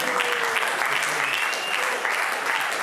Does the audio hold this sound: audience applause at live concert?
yes